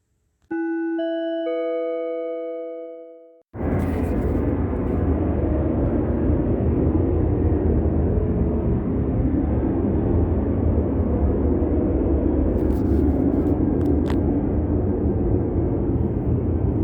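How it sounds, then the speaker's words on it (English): A steady airplane roar passes overhead, loud and broad, running continuously after a brief chiming tone at the start. "And the sound of plane activity"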